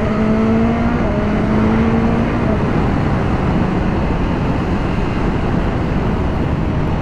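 Engine of a 2022 BMW S1000 R naked bike while riding, a steady loud drone with rising pitch sweeps as gears shift up and down, heavy wind rush throughout.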